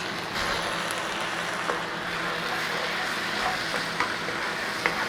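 Beef mince cooking in a pan with beef gravy stock, giving a steady, close sizzling hiss with a few faint pops and crackles throughout.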